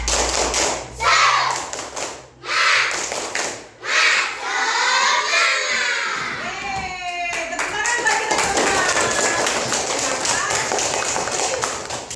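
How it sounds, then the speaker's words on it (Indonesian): A classroom of pupils performs a rhythmic clapping chant, hand claps and taps landing in quick patterned bursts with short pauses, alongside children's chanting voices close by. "kita tepuk semangat dulu yuk"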